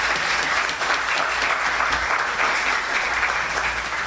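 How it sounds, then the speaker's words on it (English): An audience at a spoken word awards and recognition ceremony in Trinidad applauds warmly, with steady, full clapping for about four seconds and no voices over it. "She deserves a round of applause for that."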